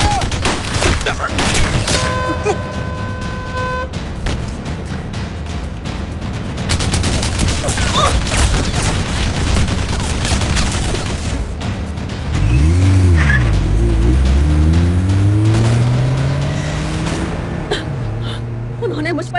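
Rapid gunfire crackles through a loud action-movie shootout, bursts tangled with vehicle noise, a possible tire squeal and pained gasps, while sweeping low whooshes take over near the end.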